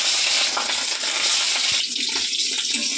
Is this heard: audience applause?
no